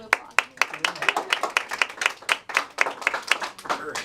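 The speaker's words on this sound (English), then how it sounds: "Let's give him a round of applause." A small audience at a dental society general meeting applauds to welcome an orthodontic specialist speaker, close, crisp individual hand claps in a loose irregular rhythm, with a voice briefly heard among them.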